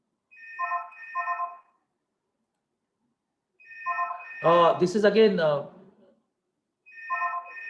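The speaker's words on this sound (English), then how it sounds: "unfortunately my phone is ringing" A mobile phone ringtone plays in repeated short melodic bursts, with a person speaking over the middle burst before the ringing resumes.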